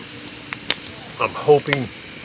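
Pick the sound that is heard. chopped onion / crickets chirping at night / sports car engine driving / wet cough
crickets chirping at night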